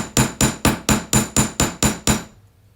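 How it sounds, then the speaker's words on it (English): Nine steady, evenly spaced hammer strikes flatten wire swirls for resin and wire jewelry, each blow sharp and close, then the tapping stops into quiet. "we'll just hammer the swirls first"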